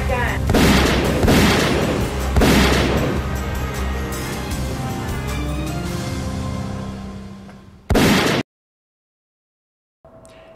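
A gunman fires a gun: about three loud, sharp blasts ring out close by, with a long ringing tail after each one, and a final shot is followed by sudden silence.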